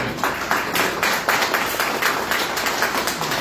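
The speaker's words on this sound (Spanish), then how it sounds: "Falta un aplauso de Rey." A church congregation applauds together, a dense, steady wash of many hands clapping close by with faint rhythmic pulses running through it and no voices standing out.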